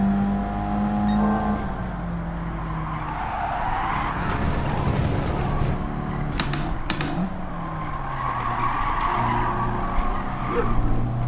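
A car skidding in the video game Gran Turismo 7, with prolonged squealing tires over a steady racing engine drone, loud and continuous, the skid rising and falling across several seconds.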